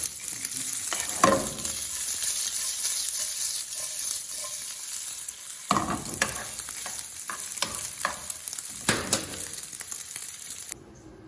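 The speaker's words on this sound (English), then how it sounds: "we're adding the guanciale in the hot pan" Guanciale sautes in a hot pan for carbonara, a steady close sizzle of frying fat with intermittent stirring scrapes and clacks throughout, no talking.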